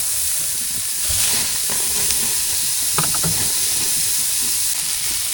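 Lamb patties sizzle on an outdoor grill at a mountain overlook just after being flipped, a steady loud hiss with a few soft crackles and pops.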